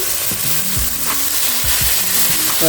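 Ghee sizzles loudly in a pan as biryani masala fries, a dense close crackle with stirring scrapes through it and no voices.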